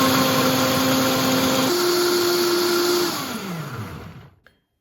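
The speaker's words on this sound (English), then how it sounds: "So I'm going to take half and put it in a blender just to show you the difference in the consistencies." Electric blender puréeing chicken liver pâté, a loud steady motor whine that drops in pitch partway through, then winds down and stops, with no talking.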